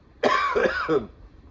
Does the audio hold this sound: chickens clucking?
no